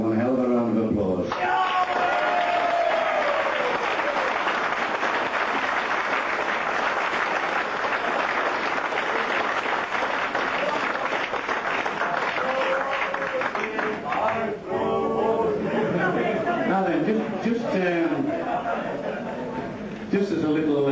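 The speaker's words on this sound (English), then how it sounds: "they deserve one hell of a round of applause" A crowd at a 1992 gathering breaks into loud, sustained applause that goes on for about twenty seconds, with a voice speaking over the clapping near the start and again toward the end.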